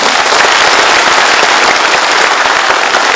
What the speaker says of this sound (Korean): 여러분 동의하신 박수 한번